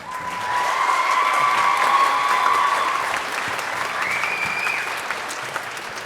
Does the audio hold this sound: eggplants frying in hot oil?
no